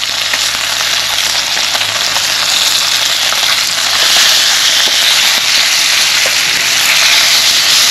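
Pieces of white bass fry golden brown in a pan with a loud, steady, close crackling sizzle, dense popping oil spatter running continuously throughout.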